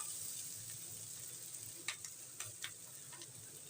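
Katla fish head frying in oil in a pan, a steady quiet sizzle with a few light clicks of a utensil against the pan, with no one talking.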